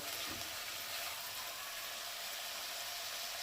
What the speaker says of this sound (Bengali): মশলাটা আমার কষানো হয়ে গেছে, এবারে আমি একটু গরম জল এর মধ্যে দিয়ে দেব